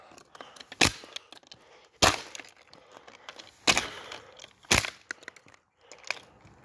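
A Mistral Style 5 exhaust fan being smashed apart: four sharp, loud cracking shatters spaced about a second apart, with smaller plastic clatters and rustling between them.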